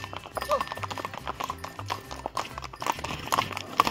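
Horse hooves clip-clop steadily during a ride on a snowy mountain trail in Pahalgam, Kashmir. The hoofbeats are close and uneven in rhythm, with voices talking faintly in the background.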